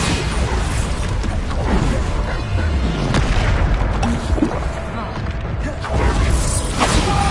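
Bombarda blasting spell from a Harry Potter video game, a dense stretch of booming explosive bursts and whooshes rolling on continuously with mechanical clatter, loud and close throughout.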